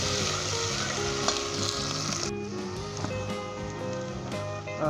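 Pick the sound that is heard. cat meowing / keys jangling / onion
onion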